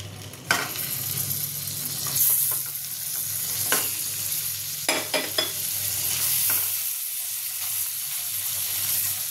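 Hilsa fish pieces fry gently in melted butter, Bengali style, with a steady close sizzle and a few light clinks of stirring throughout.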